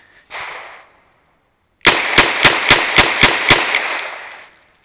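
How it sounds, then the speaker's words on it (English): Ruger GP100 revolver fired double action with 158 grain light magnum wadcutters: one sharp shot, a pause, then a rapid string of six loud evenly spaced shots ringing out close. "now we got the Ruger GP 100 with the 158 grain wad cutters, and these are light magnum load, and we'll do double action again"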